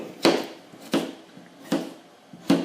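A knife cuts a potato into chunks on a board while venison scrap stew is being prepped. Four sharp, close chops land at a slow, even pace with quiet gaps between.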